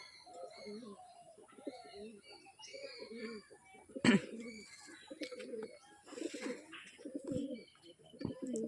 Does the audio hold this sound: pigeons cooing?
yes